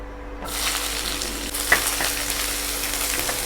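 Chopped small onions drop into hot oil already holding fennel seeds for Kerala-style pepper chicken. A sudden burst of loud, close sizzling sets in and holds steady, with one faint clink partway through.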